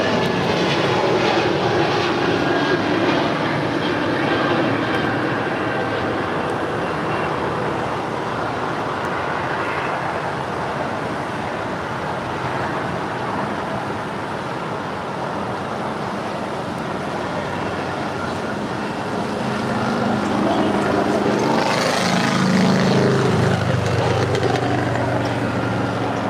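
A fixed-wing aircraft roars at LAX with a broad, loud, sustained engine rumble that swells again near the end, suggesting a landing or takeoff pass close by.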